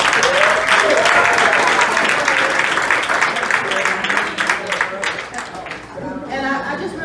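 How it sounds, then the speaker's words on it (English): An audience at a tribute night honoring a retired music figure gives another round of applause. Loud, continuous clapping fills the room throughout, with some voices audible over it before it gradually tapers. "let's give another round of applause to this lady Davis."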